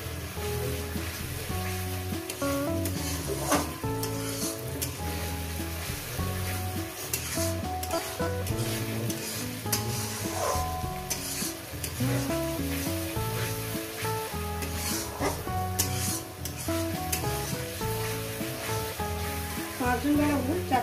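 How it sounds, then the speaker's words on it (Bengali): Spices sautéing in a pan sizzle steadily, with a dense frying hiss and repeated stirring scrapes running continuously throughout, with no one talking. "দেখছেন বন্ধুরা কিভাবে কষিয়ে নিচ্ছি, ঠিক সেম প্রসেসে রান্নাটা করবেন"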